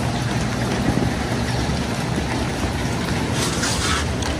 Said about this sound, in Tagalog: Pero umuulan.